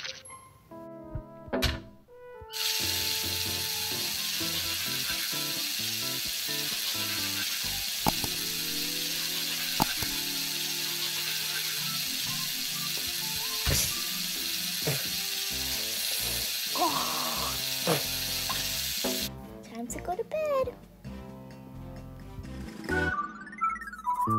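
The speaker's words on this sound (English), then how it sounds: "Time to go brush my teeth." Toothbrush bristles scrub in a long steady rasping hiss in PlayHome Plus, continuous for about fifteen seconds amid light clicks and game tones, with short sounds and notes before and after.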